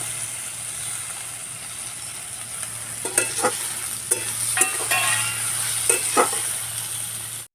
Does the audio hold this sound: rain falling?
no